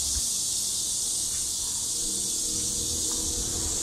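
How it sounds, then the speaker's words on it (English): Cicadas sing on a summer day in an old rural village in China. A loud, steady, high buzzing drone fills the whole stretch without a break, over faint low background noise. "As now is summer season, the sound of the cicadas is too loud and is a bit noisy."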